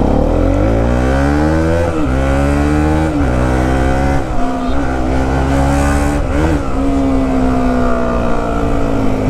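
A Bajaj Pulsar NS 200 motorcycle fitted with a slipper clutch downshifts while riding, its loud engine note dropping and rising through several gear changes with short revving blips.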